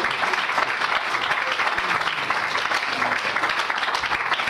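Church congregation applauding steadily, dense continuous clapping throughout with a faint murmur of voices underneath.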